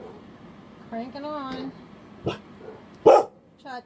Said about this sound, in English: You don't need to bark. You don't even know what you're barking at.